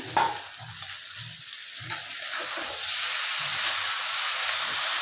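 Potato, bitter gourd, okra and taro bhaji frying in a pan, a steady sizzle and hiss with a few soft stirring scrapes near the start, close and alone.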